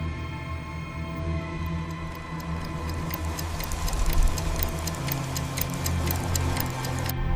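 A clock ticks steadily in a repeating rhythm over a dense, droning background with a low engine-like rumble, in a dark, ritualistic scene where a man's new arm grows from his shoulder.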